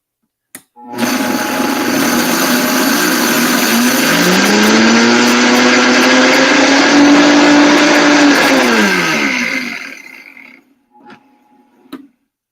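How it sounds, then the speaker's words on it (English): A kitchen blender grinds rolled oats into oat flour with a loud, close motor roar that climbs in pitch as it spins up, holds for several seconds, then winds down and stops, followed by a couple of brief clunks. "you just put them in your blender and whirl until it's flour"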